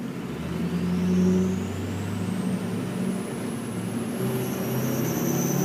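A four-wheel-drive truck strains for traction, its engine droning steadily and loud with low rumble throughout, a rising whine climbing over the top as the wheels spin.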